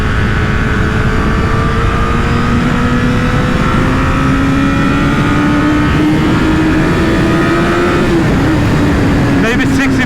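A Honda CBR1000RR Fireblade SC59 superbike accelerates on a public road, its engine note climbing steadily under heavy, constant wind roar.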